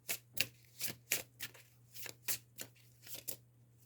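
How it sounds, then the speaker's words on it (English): Tarot cards riffle and drop in quick successive bursts, about a dozen crisp papery flutters close to the microphone over a steady low hum, with no voices. "Cards are falling in chunks."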